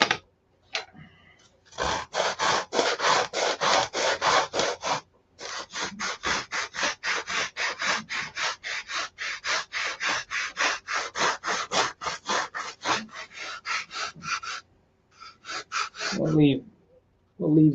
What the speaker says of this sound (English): Okay, start sanding.